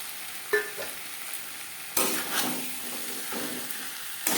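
Spices sizzle in a pan on a medium-low flame, a soft steady crackle broken by a few sharp scrapes and clunks of stirring against the metal, close up with no voices.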